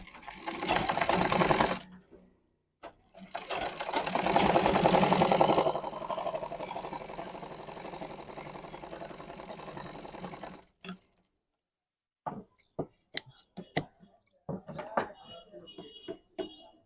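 A sewing machine runs in long continuous stitching bursts along a half-inch folded hem of pant fabric, followed by a series of short start-stop clicks and taps, close up with no talk.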